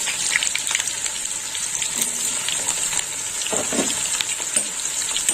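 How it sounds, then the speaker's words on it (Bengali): Cut eggplant pieces frying in a pan, a steady bright hiss of oil with soft bubbling and occasional stirring knocks, close and continuous. "এবার বেগুন ভেজে নেব বেগুনগুলো আমি এইভাবে কেটে নিয়েছি"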